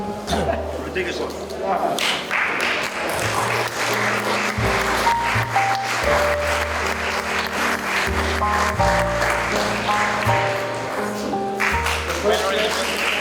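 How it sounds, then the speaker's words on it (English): Steady applause rises from a crowd at a French trotter horse event, blending with loud music and an announcer talking over it the whole time. "applause please for our three international drivers"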